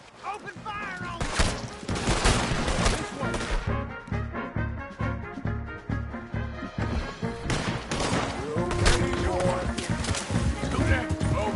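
Gunfire in the video game Red Dead Redemption 2, heard as rapid, loud volleys of shots in dense bursts mixed with game sounds, with voices speaking over much of it.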